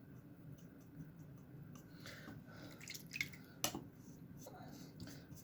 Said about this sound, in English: I'm just washing the brush out.